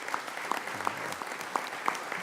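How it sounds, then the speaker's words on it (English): Scattered applause from a small group at a meeting with miners and senators, a few distinct claps standing out over a thin, quiet patter. "So if you give all three of these senators a round of applause"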